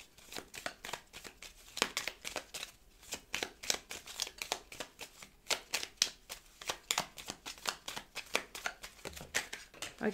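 Tarot cards shuffled by hand in a steady run of crisp, rapid riffling bursts, close and fairly quiet, repeating for several seconds with no talking.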